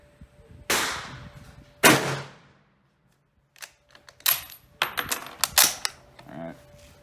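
Several sharp rifle shots from an Enfield No.4 Mk1 fired at targets 25 yards away outdoors: two loud, separate cracks with a short pause between them, then a quicker series of fainter clicks and impacts.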